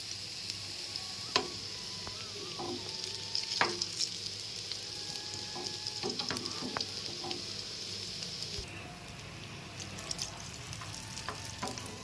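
Chicken chilli garelu frying in hot oil, a steady close sizzle and bubbling with scattered small pops and occasional utensil clicks, continuous throughout without talk.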